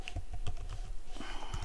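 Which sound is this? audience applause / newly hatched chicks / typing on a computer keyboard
typing on a computer keyboard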